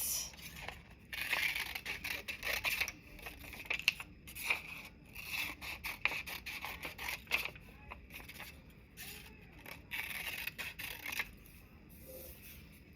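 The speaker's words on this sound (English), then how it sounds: "you are going to take scissors and cut it" Scissors cutting a paper design down to size, a run of quiet crisp snips and papery scraping strokes in irregular rhythm, close and faint with no voices.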